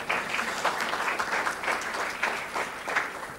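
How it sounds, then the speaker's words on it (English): An audience at an evening book talk claps in a round of applause, dense clapping that swells and dips in uneven waves over a few seconds. "we should all give her a round of applause"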